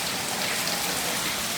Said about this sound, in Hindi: फुल तेज़ बारिश।